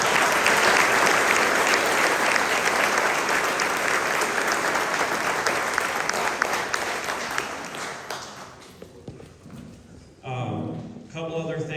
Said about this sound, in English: let's give all of our candidates tonight a round of applause.